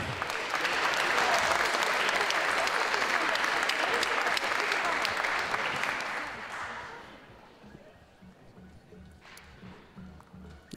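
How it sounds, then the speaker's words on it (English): Loud, dense applause from an audience at an investor reverse-pitch event honouring the investors, holding steady for about six seconds before fading into lighter scattered clapping and room noise. "So can we give some applause to the investors?"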